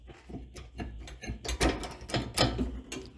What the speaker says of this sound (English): So we're going to pull the caliper off.